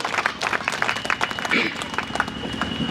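Audience applause at a Hindi poetry recital for the listeners, a short burst of scattered clapping heard under and around ongoing speech.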